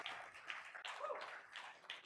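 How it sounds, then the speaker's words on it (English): A broker-conference audience applauds at a live corporate event, a faint, steady patter of many hands clapping together with no voices over it. "Round of applause for our Cap Markets team."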